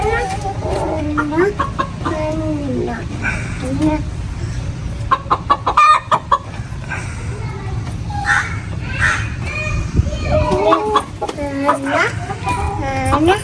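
Chickens cluck close by in a backyard coop, with many overlapping hens giving bursts of clucks and squawks throughout, loud and steady, while a person talks now and then.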